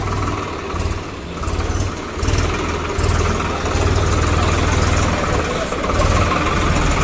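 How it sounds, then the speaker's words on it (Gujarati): A tractor engine runs at idle, a close, low rumbling chug that swells and eases slightly across several seconds, with faint background voices underneath. "ટ્રેક્ટર ચાલુ કરી દીધું છે"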